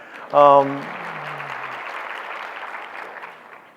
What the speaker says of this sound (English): You can all clap for that.